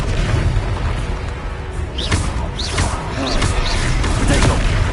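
Booming explosion of a Confringo blasting curse in the Hogwarts Legacy video game, loud bursts and whooshes amid continuous spell combat noise, with a player's voice calling out over it.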